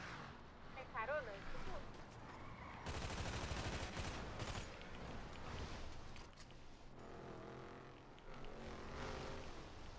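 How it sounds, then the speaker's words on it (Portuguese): Video game shootout with police on a hilltop, bursts of rapid automatic gunfire and scattered shots, loud and crowded, with a vehicle engine and a player talking over the action. "Tô trocando tiro aqui em cima do morro."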